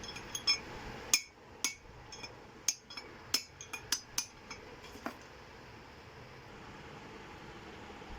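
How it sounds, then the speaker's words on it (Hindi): Hammer tapping a steering bearing cone down into its seat on a Suzuki Ravi: about a dozen sharp metallic clinks in an uneven rhythm, fairly faint and close, over low background noise, then the strikes stop. "इसे अभी हम हथौड़ी की मदद से थोड़ा नीचे बिठाएंगे"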